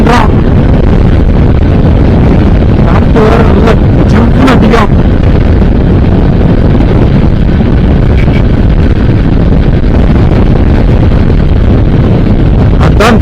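Strong wind buffets the microphone throughout while riding a vehicle through Tuticorin, a loud continuous low rumble with brief gusty flurries, and voices talk faintly underneath.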